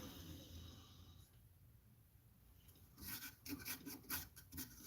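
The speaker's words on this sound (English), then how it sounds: "I think I'm just going to start at a lower grit of sandpaper and just do one scrape." Sandpaper rasping over a wooden bowl: quiet at first, then from about three seconds a run of close, scratchy strokes in irregular bursts.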